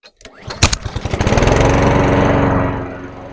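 A Honda-engined lawnmower is pulled to start with the choke on, sputtering through a few quick firing pops before catching and settling into a loud, steady running drone close by.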